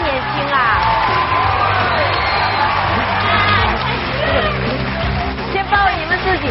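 Studio audience at a Chinese TV talk show cheering and whooping for the director's entrance, a dense crowd roar with shouts and voices throughout, hosts speaking over it.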